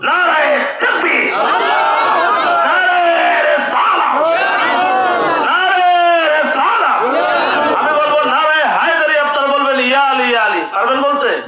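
A large crowd at a religious gathering shouts a joyful takbir chant in unison, loud and sustained with rhythmic call-and-response swells of many voices.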